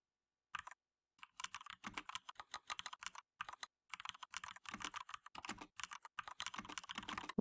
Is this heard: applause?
no